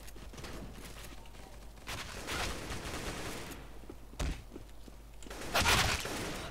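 Game gunfire from Roblox Counter Blox, including an M4A4 rifle, sounds in short bursts and single sharp cracks, some distant and some closer, spread over several seconds.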